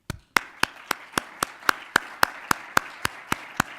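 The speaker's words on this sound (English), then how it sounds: "I would encourage you to give a round of applause and thanks to our speakers today." A single person claps slowly and evenly at a conference panel on virtual and augmented reality, with about a dozen crisp, separate claps in a steady rhythm, close and clear against quiet room tone.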